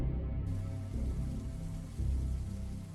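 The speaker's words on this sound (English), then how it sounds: "The only response was a rumble of thunder and the sound of pouring rain." Pouring rain hammers down in a steady, dense wash with low rumbles swelling beneath it, like distant thunder rolling under the downpour.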